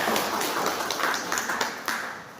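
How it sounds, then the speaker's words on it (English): A live audience at a cosmetology and beauty panel discussion clapping together, a dense, fairly steady patter of many hands that fades slightly toward the end, with no talk over it. "Clap for yourselves."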